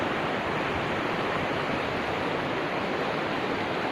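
A river flowing beside Candi Ngempon temple, a steady, dense rush of water like a small waterfall or rapids, constant and fairly loud throughout with no voices.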